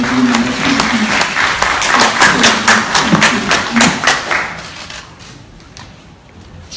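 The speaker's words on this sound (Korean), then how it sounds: "다시 한번 안철수 후보한테 박수 한번 드리고" An audience at a press conference for candidate Ahn Cheol-soo applauds steadily, a dense burst of many clapping hands with some voices mixed in, loud and close, then thinning out and fading over the last couple of seconds.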